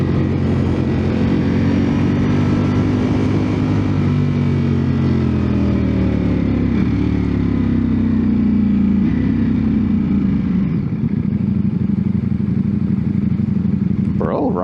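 A 2024 Ducati Panigale V4S ridden through curves gives a loud, close engine drone whose pitch rises and falls with throttle changes, heard over steady wind rush.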